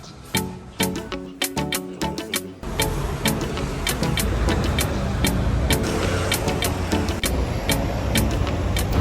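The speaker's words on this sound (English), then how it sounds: "You just gotta dodge the motorcycles and the people and the cars and the buses" Busy Rome street traffic near the Colosseum, with cars, buses and motorcycles passing in a steady, loud wash of engine and road noise, punctuated by sharper clicks and knocks.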